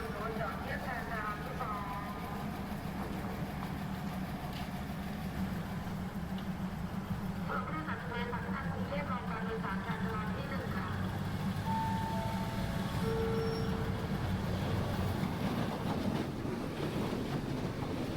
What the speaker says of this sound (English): This is only a diesel rail car on the weekends.